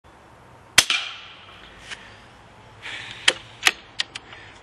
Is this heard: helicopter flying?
no